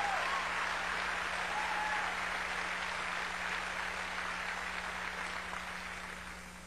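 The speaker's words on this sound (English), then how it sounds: "I don't know why you're clapping." A church congregation claps during a sermon, a broad, sustained wash of applause heard at moderate distance that slowly fades over several seconds, with a steady low hum underneath.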